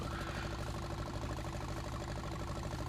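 A vehicle engine in the farming game Farming Simulator 19 drones steadily at a low, even idle-like pitch, continuous and close throughout, with no pauses.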